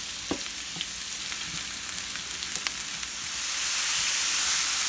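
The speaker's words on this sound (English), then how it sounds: "We are going to cook the celery inside the stew, so we just need 5-6 minutes of sautéing." Celery sizzles steadily in a hot pan, sautéed for a stew, a dense close frying hiss with scattered crackles and pops that grows fuller toward the end, with no voices.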